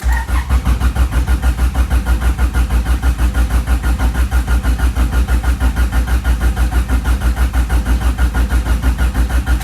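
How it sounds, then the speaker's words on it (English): Car engine cranking over without firing to circulate oil after a build, a steady loud rhythmic starter churn with regular pulses throughout, no voices. "Just cranking it so that we make sure we got everything oiled up."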